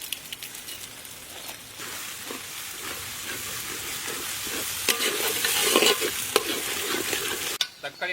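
Tomatoes with ginger and garlic sauté in a large pan, a steady close sizzle with frequent scraping stirs that grows busier toward the end before stopping abruptly.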